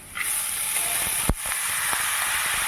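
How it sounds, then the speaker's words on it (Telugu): Sago pearls drop into a hot pan for sabudana upma, giving a steady hissing sizzle with a sharp clatter and a couple of softer knocks as they land and get moved about. "ఇప్పుడు సగ్గుబియ్యం వేసుకుంటాము."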